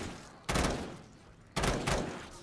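Two bursts of video game gunfire from a survival shooter, each a loud broadband blast with a short decaying tail, about a second apart and alone without talk.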